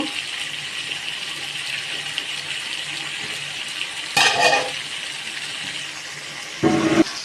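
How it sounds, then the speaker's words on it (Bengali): Water is poured into a pot of frying broiler chicken and potato curry in two short gushing bursts, the second briefer, over a quiet background sizzle at close range. "এই যে এখন আমি পানি দিয়ে দিব"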